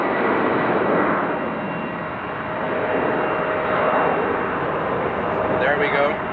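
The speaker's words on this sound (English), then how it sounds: "This probably is going to be a very, very early takeoff based on the speed it's already having." A jet airliner takes off at Amsterdam Schiphol Airport, its engines producing a loud, steady broadband roar that continues through the whole stretch and rises slightly toward the end.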